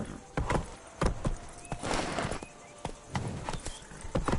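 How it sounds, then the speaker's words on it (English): Hooves of Roach, Geralt's horse in The Witcher 3: Blood and Wine, clip-clop at a gallop in a steady, fairly loud rhythm, with background game ambience and no talking. "Run, Roach."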